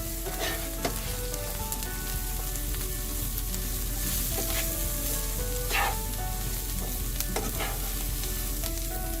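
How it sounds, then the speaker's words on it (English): Kale sautéing in oil with spice powders, a constant close sizzle and frying hiss broken by repeated stirring scrapes and clinks of a utensil against the pan. "Give it a good stir. Make sure that all of the powders and that oil coats the kale well."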